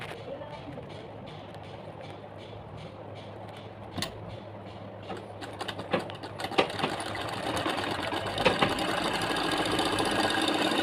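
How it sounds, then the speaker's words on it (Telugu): Sewing machine stitching a travelling bag, its pocket being joined to the top panel, starting quietly then running in a close, steady mechanical whir with occasional clacks and louder bursts toward the end. "ఇది పాకెట్ ఇది రెండు కలిపి కుట్టాలి."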